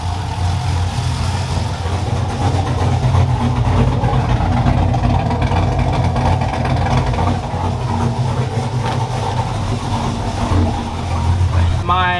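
A car engine fitted with a TSP Torquer V2 camshaft runs with a lumpy, throaty idle and occasional revs, loud and close, steady throughout the stretch, with a person speaking over it.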